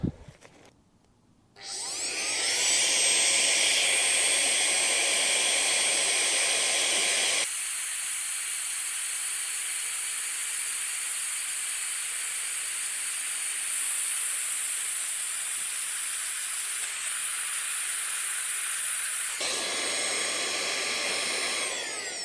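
A cheap electric pump inflates a backpacking sleeping pad, a loud steady whirring hiss that starts abruptly after a click, holds for most of the stretch with a slight pitch shift, then drops to a lower hum near the end.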